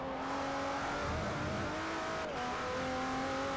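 V6 twin-turbo VQ30DET car engine in Forza Motorsport 4 revving steadily at close range, a continuous tonal drone with rising and falling pitch and a brief dip partway through.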